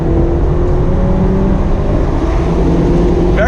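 A new 2019 BMW Z4 drives along with a loud, steady engine drone and road roar heard from inside the cabin, holding a constant hum without distinct revving.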